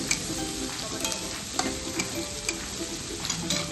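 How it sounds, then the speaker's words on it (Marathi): Tomatoes sizzle steadily with onions in a pan for chicken biryani, a continuous close frying hiss with regular soft stirring taps and scrapes. "पण टोमॅटोलाही छान भाजून घ्यायचं आहे"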